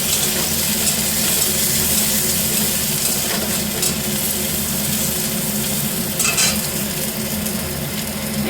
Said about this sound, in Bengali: আর দেখো পেঁয়াজ কুচি দিলাম